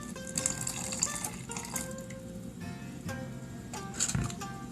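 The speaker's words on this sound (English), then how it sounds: "And then we're going to pour our hot water in." Hot water poured into a mix of plaster of Paris and paint for homemade chalk paint, a quiet, steady liquid stream with light splashing close by.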